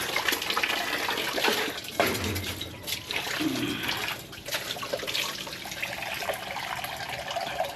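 Water pours steadily from a tap into a cooking pot, filling it for boiling guyabano, a continuous close splashing rush with slight shifts in tone as the level rises.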